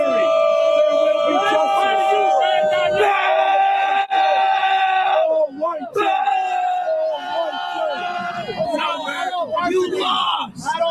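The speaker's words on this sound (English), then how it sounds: "With dueling crowds on both sides making their voices heard" Opposing protest crowds on both sides of a trial over an all-white jury, yelling and chanting loudly and continuously, a dense wall of massed voices with overlapping shouts and whoops.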